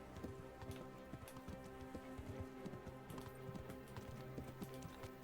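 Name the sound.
horse riding hooves in Kingdom Come Deliverance video game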